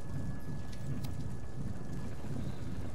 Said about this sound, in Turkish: Bunda yağmur tarzı bir şey var.